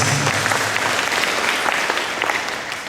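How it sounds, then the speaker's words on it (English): Applause breaks out at a Hmong business gathering, a dense, close round of clapping from the audience that fades slightly toward the end, with no talking over it. "give a round of applause for that"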